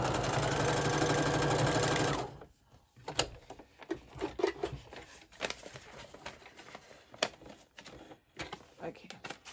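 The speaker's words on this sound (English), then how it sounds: "Okay, let's sew it." A sewing machine runs steadily for about two seconds while stitching a ruffle onto an accordion-style junk journal, then stops, leaving scattered taps and light handling sounds.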